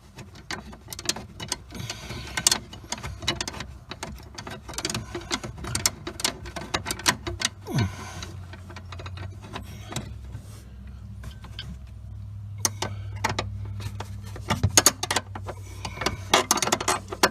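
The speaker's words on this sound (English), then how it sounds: "tighten up the mounting nut for that." Small metal spanner clicks and scrapes while a 10 mm mounting nut is tightened on the J-bolt holding the 12-volt battery of a Lexus CT200H, close up, with irregular sharp ticks over a low steady hum.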